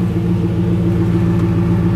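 A turbocharged Chevrolet Camaro engine with a small exhaust leak idles steadily close by, a smooth, continuous low rumble with even pulses and no voices.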